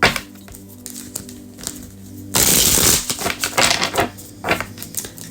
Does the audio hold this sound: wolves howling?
no